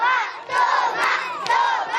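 About 300 schoolchildren crowd around a sailor, yelling and shouting together in a loud, dense, continuous roar of young voices with brief swells.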